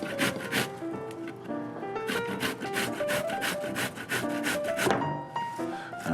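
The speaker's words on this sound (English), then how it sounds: "And then we'll grate all 4 pears" Four pears are grated by hand on a grater, worked around the core in continuous rasping strokes with a busy, scratchy texture, close and fairly loud throughout, with no talking.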